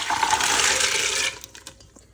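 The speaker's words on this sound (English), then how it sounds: "We'll wash the peas" Red peas being washed in water for a cow skin soup, with a steady splash and rush of running water for over a second that then stops, leaving a few small clinks and drips.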